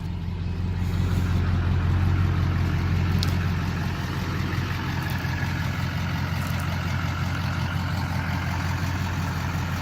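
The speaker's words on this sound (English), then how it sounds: "You can just hear it, just happy to idle." A 2002 Chevy Suburban with a Duramax diesel engine and MBRP exhaust idles steadily, a loud, close, continuous low rumble that holds even throughout with no voices.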